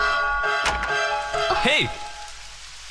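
Rain falls steadily through a scene in a Tamil film, a soft wash beneath a voice that calls out briefly and a held musical tone.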